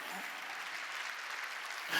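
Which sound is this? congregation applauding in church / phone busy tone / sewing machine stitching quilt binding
congregation applauding in church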